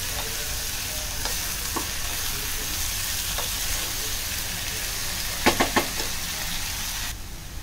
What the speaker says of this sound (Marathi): टोमॅटो छान 2 ते 3 मिनिटं परतून घ्यायचं आहे, चांगला शिजला पाहिजे टोमॅटो।